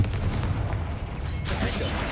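Confringo spell blast in the video game Hogwarts Legacy, a deep booming rumble that ends in a sharp, bright burst of impact noise in the last second.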